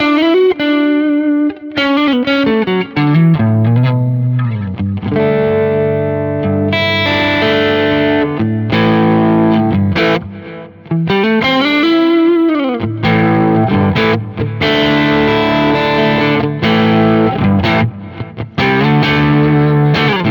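Electric guitar through a Quad Cortex plays sustained chords and bending notes with an RC boost, slightly distorted tone and shimmering chorus, loud and continuous.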